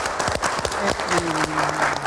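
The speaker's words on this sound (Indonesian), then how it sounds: "kita berikan tepuk tangan dulu buat Pak Edwin" Studio audience clapping for Pak Edwin during a legal talk show, a short burst of hand claps mixed with overlapping voices and a held vocal tone.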